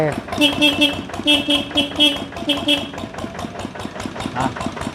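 A Thai e-taen farm vehicle's engine idles nearby with a steady, rhythmic chugging pulse while someone talks over it.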